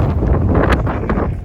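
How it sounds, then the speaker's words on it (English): Strong wind blowing across an open wheat field in February, buffeting the microphone with steady, loud rushing noise and no speech. "Flipping windy today."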